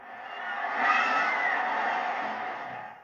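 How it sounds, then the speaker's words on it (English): A 1988 Bigfoot monster truck race roars as a steady, loud engine rush that swells slightly and then holds, dense and continuous, with no voices over it. "and now the most exciting event of all, monster truck racing."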